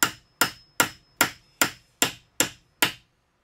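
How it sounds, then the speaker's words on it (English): Eight evenly spaced, sharp hammer blows drive a chisel into wood while cutting parts for a plyometric box, each crisp close strike ringing briefly before the next, heard alone. "I like to use the angle to follow the pattern with my chisel"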